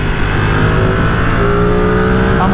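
A Ducati Streetfighter V2 motorcycle ridden at a gentle pace, its engine giving a loud, continuous rumble mixed with rushing wind noise and a slight rise in pitch near the end.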